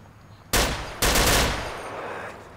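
Gunfire in the LCPDFR police mod video game: two loud, sharp bursts of shots in quick succession, each ringing out and slowly fading over a quiet background.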